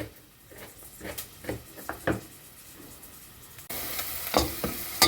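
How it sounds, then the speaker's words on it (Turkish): Onions sizzle in a hot frying pan with scattered stirring scrapes; the frying grows louder and brighter partway through. "Bir yandan soğanım kavrulurken"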